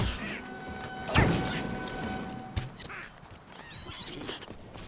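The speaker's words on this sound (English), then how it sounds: "Get away from my horse." A horse in the Skyrim video game whinnies once near the start, with a crashing hit and game combat noise around it; no speech is heard.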